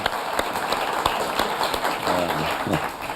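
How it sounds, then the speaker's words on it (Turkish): Sustained clapping from a television talk show studio audience fills the clip at moderate loudness, with a voice briefly heard underneath near the end. "Ya bir alkış alalım mı Nesli"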